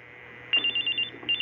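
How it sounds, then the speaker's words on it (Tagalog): A cellphone ringing on top of a fridge, its repeating electronic tone coming in quick bursts with a short pause before it starts again, heard alone and at moderate distance. "Oh, nagre-ring yata yung cellphone mo doon sa ibabaw ng ref."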